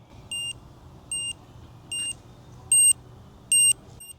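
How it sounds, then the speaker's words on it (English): A Find My wallet tracker card emits five short, evenly spaced electronic beeps, the last two louder, against a quiet background hum. "So that actually has a little beep to it."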